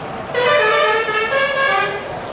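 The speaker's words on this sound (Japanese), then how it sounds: "僕がインドで一番嫌いだと言ってもいいこのインド式クラクション" An Indian-style car horn sounds on a road in Assam, India. A single loud, close, sustained blare lasts nearly two seconds.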